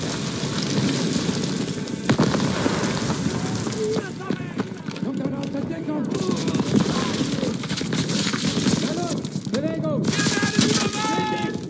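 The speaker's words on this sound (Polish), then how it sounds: "KM-y wciąż walą po plaży!" Machine gun fire rattles continuously across the beach during a D-Day battle in Call of Duty WWII, dense overlapping bursts mixed with shouting voices and battlefield chaos.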